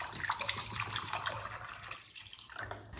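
Distilled water poured into a measuring cup, a close trickling and splashing stream with a brief lull before the pouring resumes.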